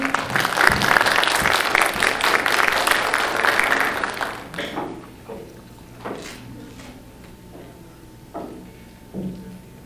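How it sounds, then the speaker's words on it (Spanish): An audience claps for the next speaker at a lawyers' congress in Mexico City. The applause is loud and steady for about four seconds, then fades into scattered claps and room noise. "Un aplauso, por favor, a la siguiente ponente."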